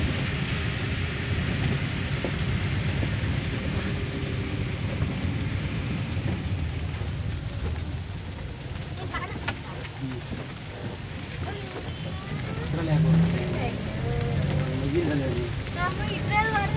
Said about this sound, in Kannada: ನೋಡಿ ಎಷ್ಟು ಮಳೆ ಬರ್ತಾ ಇದೆ ಅಂತ